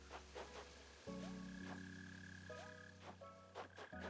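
Mole cricket in Animal Crossing: New Horizons, a continuous low droning buzz that cuts in and shifts pitch, with faint game chimes and light tapping sounds layered over it.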